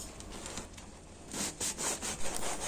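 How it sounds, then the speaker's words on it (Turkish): Bread loaves being cut into thin slices with a knife for a stale-bread breakfast dish, a quiet sawing rasp that grows louder halfway through into a run of short rhythmic strokes, with no talking. "Ekmeklerimizi ince dilimler yapıyoruz."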